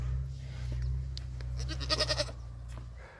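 A desi Gavran goat bleats in a quick series of close, nasal calls while being milked by hand, over a low steady background hum.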